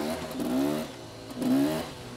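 An enduro motorcycle with a two-stroke engine, ridden hard, revving in two rising surges about a second apart, each climbing in pitch then falling back, moderately loud and without voices.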